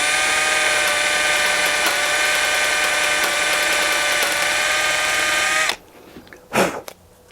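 A power drill bores into a broken oil dipstick with a metal core, giving a steady high-pitched whine for several seconds before cutting off, followed by a brief rush of air and quieter handling noises.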